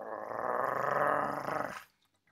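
A person imitates a growl with a single sustained throaty rumble lasting nearly two seconds, rising and then fading to near silence, close and fairly loud.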